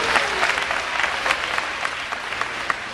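Audience applause fills a graduation ceremony hall, a dense, steady clapping from many hands that carries on without a break and with no talking over it.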